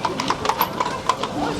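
Horse hooves clip-clop in a steady, even rhythm on pavement at the Salzburg Christmas market, with people talking over the moderately close hoofbeats.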